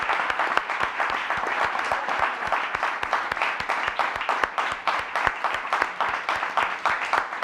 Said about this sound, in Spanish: Yo le pido un aplauso para él.